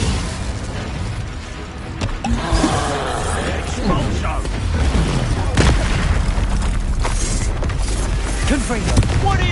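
Confringo explosion spells blast during a Hogwarts Legacy duel, a loud sustained stretch of booms and crackling bursts mixed with shouted speech and battle effects.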